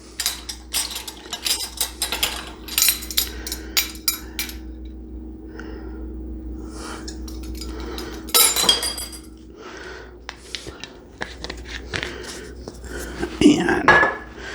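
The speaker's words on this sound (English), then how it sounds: "And then we'll give that a nice stir" A spoon clinks and scrapes against a bowl while pasta salad with granulated garlic and apple cider vinegar is stirred. Bursts of rattling taps come and go over a quiet room hum, with a louder clatter near the end.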